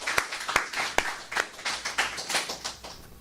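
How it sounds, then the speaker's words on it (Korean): A church congregation claps together during a Sunday worship service held in a rented classroom: a run of sharp, fairly even hand claps, close and moderately loud, with no talking over them. "우리 모두 다가 수고하셔서 박수 한번 칩시다"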